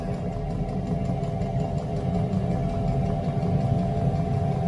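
Diesel heater running hard aboard a sailboat, a steady mid-pitched mechanical drone with a faint rhythmic pulsing and vibration, continuous and close with no break.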